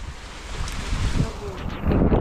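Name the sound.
strong wind by the sea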